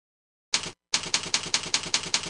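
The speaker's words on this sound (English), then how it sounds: "Type in the name of your preset" Keys clatter on a computer keyboard as a preset name is typed in: one short burst, a brief pause, then a quick even run of about eight crisp strokes, close and clear.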